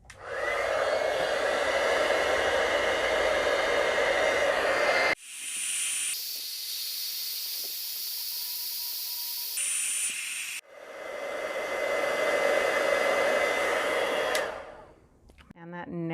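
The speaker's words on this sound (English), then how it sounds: "So I'm going to heat set this with my heat tool." A heat tool melts embossing powder to a glossy finish on a papercraft wreath, producing a loud, steady hair-dryer-like blowing roar in two long bursts separated by a brief pause, with no talking.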